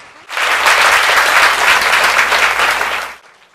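An audience breaks into loud, sustained applause, many hands clapping together in a dense roar that starts abruptly, holds steady for about three seconds and then cuts off, with no speech over it.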